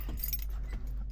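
Keys jangle in short metallic bursts as they are put away into a pocket beside a 1980 Mitsubishi L200 with a 4G32 engine, over a low steady background hum.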